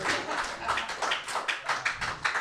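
An audience at a live show claps in a quick, uneven patter, with bursts of hand claps close together in a steady rhythm and no talk over them.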